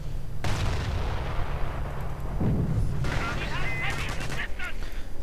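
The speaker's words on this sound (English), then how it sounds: "Artillery flying in again towards the central German positions." Artillery shells pound enemy positions in a WWII strategy video game, a sustained rumble of booms and blasts with a sharper volley near the end, while a commentator talks over it.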